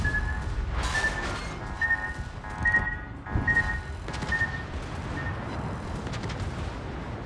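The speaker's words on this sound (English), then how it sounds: "Malbaro is shooting HC at a broadsiding Nakhimov." Warship guns firing high-explosive shells in the naval battle game World of Warships, with repeated booming salvos at irregular intervals over a steady rumbling battle background and faint whistling tones.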